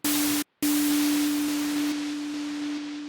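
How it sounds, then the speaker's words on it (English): A pure sine wave tone layered into an FL Studio effect holds steady and loud, broken by one brief cut near the start, over a bed of filtered noise. "let's go even further by adding in a sine wave"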